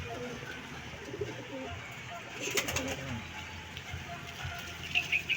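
Soft pigeon coos sound faintly amid a low ambient hiss, with a few faint taps.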